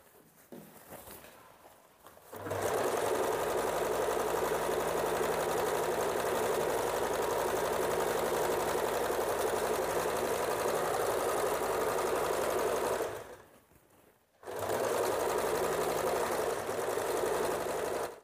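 A sewing machine stitches a folded blouse waistband, running with a continuous fast mechanical whir for about ten seconds, pausing briefly, then starting up again nearby and loud.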